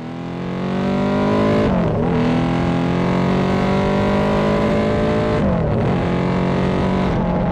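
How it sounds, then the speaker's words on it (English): A Honda RC181 replica racing motorbike with four straight-through unbaffled megaphone exhausts roars loudly, climbing through the revs, dipping briefly between gears and pulling hard again, alone without speech. "When you see these 4 megaphones shooting out the back and you're following the bike with these pipes, the noise is awesome"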